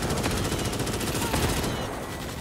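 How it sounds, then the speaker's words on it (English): Rapid automatic gunfire from the sci-fi shooter Starship Troopers: Extermination rattles in dense bursts through most of the moment, loud and close, easing slightly toward the end. "Tom's shooting us."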